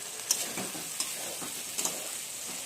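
Chicken leg pieces hitting hot oil and spices, sizzling with a soft, steady hiss broken by a few faint crackles and pops, fairly quiet and with no voices.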